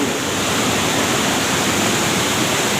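Waterfall at Keumumu Seberang village, a loud, dense and unbroken roar of falling water close by, with no voices over it.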